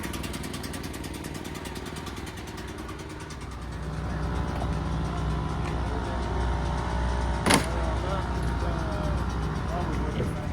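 A race car engine tuned with a cam idles and revs in the pits at a drag racing event, a loud rough rhythmic rumble with pulsing harmonics, joined by a sharp brief noise near the end while voices talk underneath.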